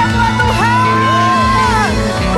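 A church congregation at a Sunday service in Manado shouts, whoops and cheers together, a loud continuous crowd roar with rising and falling voices.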